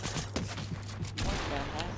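Rapid bursts of gunfire in a shooter video game crackle in a short volley over a steady low hum, with a brief lull before another burst; no one speaks.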